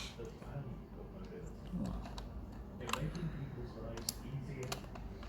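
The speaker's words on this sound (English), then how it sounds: "It's a clicky blue mechanical switch." Sparse clicky keystrokes from blue mechanical keyboard switches tap out irregularly, fairly faint, against a low background hum.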